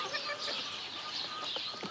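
Chickens in a farm coop cluck and chatter faintly in a soft, continuous jumble of bird calls, fairly close but quiet.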